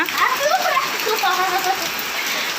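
Heavy rain pours down outdoors near an open-air cooking spot, a dense continuous hiss with patters and splashes on surfaces, loud and close throughout, while someone talks faintly in the background.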